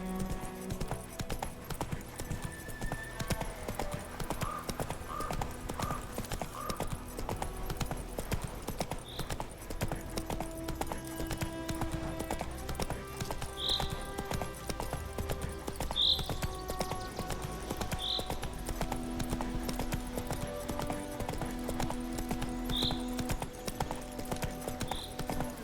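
Horse hooves clip-clop steadily in The Witcher 3, a continuous rhythmic trot heard fairly quietly over game ambience, with an occasional brief snort.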